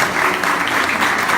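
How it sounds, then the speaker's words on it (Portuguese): Loud, dense applause from a church congregation during a sermon on prayer, a continuous roar of many hands clapping close and steady throughout. "Tem uma salva de palmas para isso."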